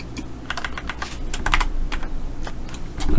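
Keys on a computer keyboard are pressed in scattered clusters of sharp clicks during design work in a layout program, heard close over a steady low room hum, with no talk.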